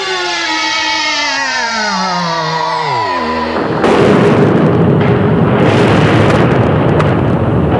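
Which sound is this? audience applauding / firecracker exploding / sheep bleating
firecracker exploding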